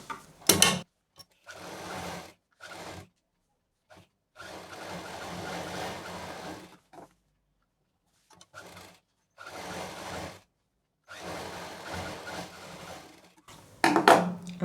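A sewing machine stitches a belt onto a patchwork shopping bag in repeated loud bursts of rapid mechanical whirring, separated by short pauses, with no talking.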